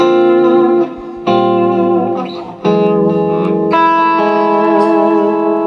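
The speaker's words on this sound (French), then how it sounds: "ce que je peux faire avec la pédale d'expression, c'est rentrer un peu de délai" A Godin electric guitar plays sustained chords with delay brought in through an expression pedal, ringing and reverberant with echoing repeats as each new chord is struck, loud and alone without talk.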